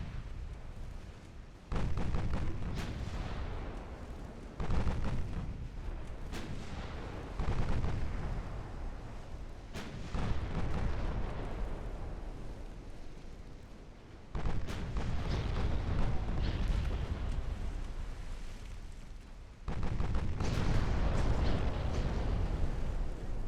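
Heavy naval gunfire from battleships in the video game Ultimate Admiral Dreadnoughts, with deep booming salvos arriving in several separate bursts, each rolling and decaying before the next heavy volley.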